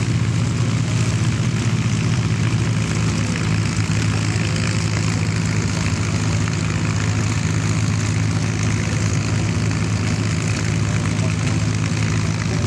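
A warbird propeller airplane taxis and turns at EAA AirVenture 2024, its piston engine droning in a steady, loud, low idling rumble with propeller buzz that continues throughout, with a crowd and announcer in the background.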